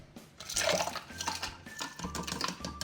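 One cup of ice cubes tipped into a cup of 1% milk for a homemade chocolate chip cookie frappuccino, with clinking, rattling ice and splashing liquid in quick bursts over a few seconds, close and moderately loud.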